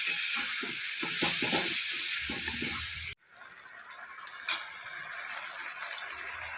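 Ground spices with cumin powder sautéing in a pan for a cabbage dish, a steady close sizzle and hiss with soft stirring scrapes, dropping briefly midway before the frying continues alone.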